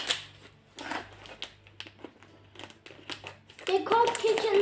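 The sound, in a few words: snack packaging crinkling while cut with kitchen scissors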